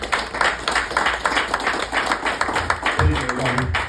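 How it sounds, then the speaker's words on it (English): Audience clapping at a live Melanin Monday community event in Charlotte as a speaker is welcomed to the front, steady applause filling the room with a brief louder burst near the end, voices mixed in underneath. "Clap it up for him, please."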